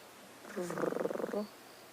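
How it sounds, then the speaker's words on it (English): A lioness purrs softly in contentment, a brief rumbling, pulsing purr lasting under a second amid quiet outdoor background. "One of them is making a very strange sound, sort of a purring sound that I could hear."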